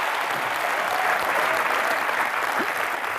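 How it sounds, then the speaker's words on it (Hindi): A studio audience at a comedy show claps steadily and loudly throughout, a dense, even wash of applause with no talking over it. "हमारी कंजूसी और कंगना के सेंस ऑफ ह्यूमर के लिए जोरदार तालियां।"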